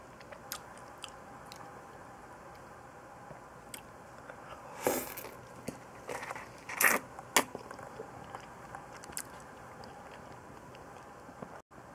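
A juicy ripe peach is bitten and chewed close to the microphone in a quiet room, soft wet crunches and squelches arriving in a few scattered bursts over a faint background hiss.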